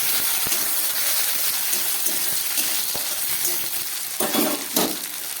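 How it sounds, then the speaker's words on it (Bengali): Onion and tomato pieces fry in a pan with a steady, dense sizzle. A few light clinks and stirring scrapes rise over it, and a brief louder crackle comes near the end. "পেঁয়াজটাকে একটু ভেজে নিচ্ছি। দিয়ে দিচ্ছি কয়েক টুকরো টমেটো"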